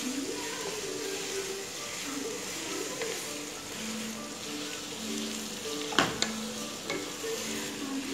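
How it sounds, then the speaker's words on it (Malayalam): Chicken pieces sauté in a pan for a simple chicken curry, with a steady close sizzle and frying hiss throughout, broken by occasional scraping stirs and a couple of sharp utensil knocks. "ആ ചിക്കൻ്റെയൊക്കെ നിറം ഒന്ന് നന്നായിട്ട് മാറി കിട്ടുന്നവരെ ഒന്ന് വഴറ്റി കൊടുക്കണം."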